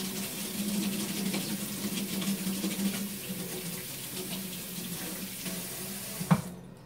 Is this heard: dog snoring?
no